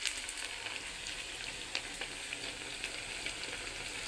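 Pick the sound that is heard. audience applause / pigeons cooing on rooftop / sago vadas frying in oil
sago vadas frying in oil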